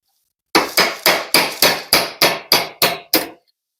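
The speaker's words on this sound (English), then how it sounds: "We just need to pop these rivets out now." Ten sharp hammer blows knock rivets out of a BMW E30 steering knuckle held loosely in a vise, struck in a steady rhythm close by, each ringing metallic hit decaying quickly.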